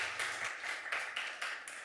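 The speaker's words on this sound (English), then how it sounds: "Everybody's getting applause tonight" Brief, moderately loud applause ripples through a city planning commission meeting room, with irregular claps sustained for about two seconds.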